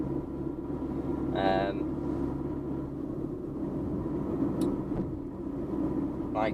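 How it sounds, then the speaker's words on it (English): A big lorry on a road with a central line drives past a car, a steady low engine rumble and road roar that fills the whole stretch, with a brief voice-like sound partway through. "you've also got to watch big lorries like that coming down here"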